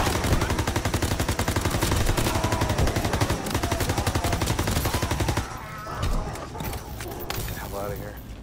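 Rapid automatic gunfire in a Call of Duty World War zombies game rattles continuously and loudly for several seconds, then gives way to scattered quieter shots and movement, with players talking.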